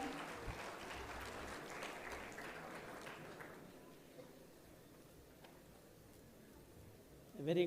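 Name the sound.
audience applause at a conference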